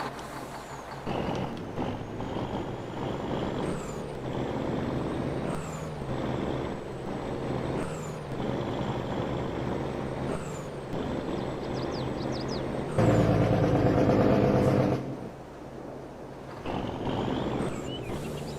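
A truck idles and rumbles with a steady diesel drone in Farming Simulator 22, broken by repeated sharp air-brake hisses and one louder, heavier surge.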